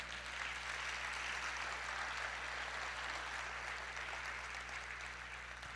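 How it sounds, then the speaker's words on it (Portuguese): A church congregation applauds during a Portuguese-language service, a faint, distant, even wash of clapping over a low steady hum, with no distinct individual claps standing out. "vamos aplaudir o Senhor"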